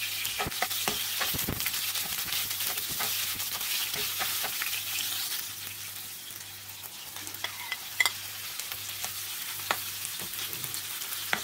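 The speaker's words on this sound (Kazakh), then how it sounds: "Алдымен пияз бен етті қуырып аламыз." Onion and meat sizzle steadily in oil in a pan, a constant close frying hiss broken by scattered sharp clicks and pops of stirring, with no voices.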